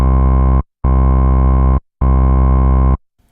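A deep synth bass sounds three held notes with a slightly gritty tone from a low-pass filter with about 25% drive, dulling the top end, each note cut off by a brief silence.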